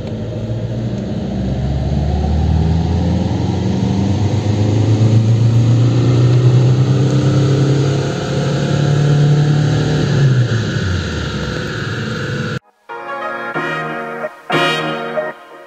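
A Skoda Octavia 1.9 TDI diesel engine on a dynamometer drones steadily at high revs for about twelve seconds, rising in pitch, then cuts abruptly to a few short, rougher bursts.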